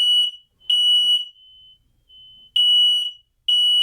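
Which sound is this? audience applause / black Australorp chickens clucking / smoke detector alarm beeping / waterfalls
smoke detector alarm beeping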